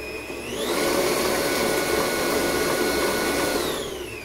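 An electric mixer beats cake batter after two eggs go in, rising from a lower hum into a steady high whirring drone that holds evenly, then winds down at the end.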